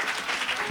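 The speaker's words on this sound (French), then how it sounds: "Acclamation" A church congregation at a healing and salvation weekend gathering claps together in a dense, steady burst of applause, heard briefly and up close.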